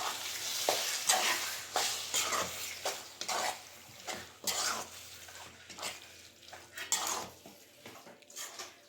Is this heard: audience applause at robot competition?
no